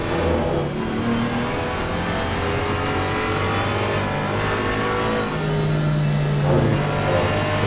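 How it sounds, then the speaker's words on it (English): Porsche GT4 race car at Spa, engine loud and close with steady high revs, harmonics rising and falling through corners and under braking, continuous with no talk. "Now, see how the Porsche performs in the corners."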